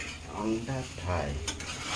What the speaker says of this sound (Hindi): अंडा फ्राई